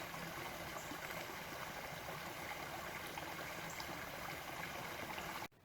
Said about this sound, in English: The soothing sound of running water.